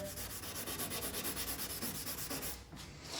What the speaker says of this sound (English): I'm gonna spend about 2 hours sanding the whole entire thing